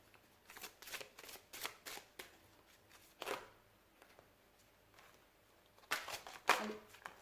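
Large oracle cards being handled and turned over in a card-reading session, with quiet papery shuffles and sharp flicks and slaps in irregular bursts, close and fairly soft.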